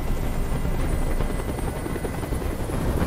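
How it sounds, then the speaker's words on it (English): A helicopter in the video game Detroit: Become Human hovers close by, its rotor producing a constant loud, throbbing whir with no break throughout. "Tell that helicopter to get out of here!"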